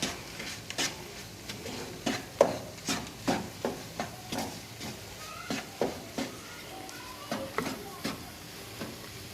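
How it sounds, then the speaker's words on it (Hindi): Spoon scraping and knocking in a pan while stirring chana dal halwa mixed with almonds and pistachios, a steady series of soft, evenly spaced wooden taps and rubs with faint background talk. "इसको मिक्स कर दूँगी।"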